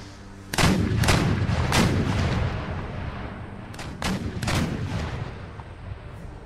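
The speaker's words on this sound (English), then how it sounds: "Our field artillery is doing an excellent job in making a breach" Field artillery fires in volleys during an Empire: Total War battle, deep booming cannon shots arriving in quick uneven clusters over a continuous rumbling battlefield din.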